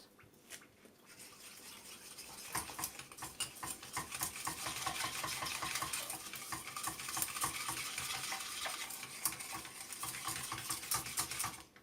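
A spoon scrapes and stirs pudding in a pot, a soft, busy, irregular clatter that grows steadier and continues close by with no talking.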